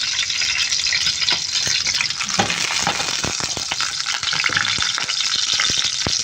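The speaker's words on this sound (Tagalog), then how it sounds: "So, ipiprito na natin yung ating bawang." Garlic frying in hot oil for arroz caldo, a loud continuous close sizzle and crackle with scattered ticks and stirring knocks throughout, no voices.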